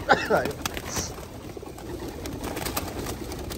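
Racing pigeons coo softly at their loft, a few low murmuring calls with some light rustling and a brief wing flutter, in a quiet outdoor setting.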